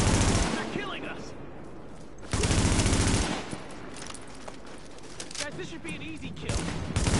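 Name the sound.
M4 rifle gunfire in video game The Division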